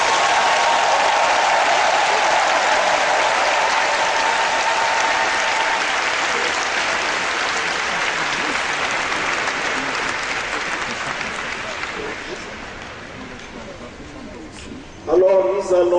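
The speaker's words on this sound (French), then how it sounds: "Nous applaudissons très fort" A large congregation applauds loudly and steadily at a religious consecration ceremony in Yamoussoukro, Côte d'Ivoire, a dense sustained roar of clapping that gradually fades before a short burst of voice near the end.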